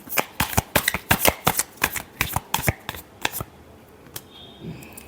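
A deck of tarot cards is shuffled up close in a quick run of about fifteen crisp riffling snaps, which then stop, leaving a few faint handling clicks.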